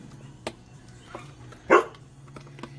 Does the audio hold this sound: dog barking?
yes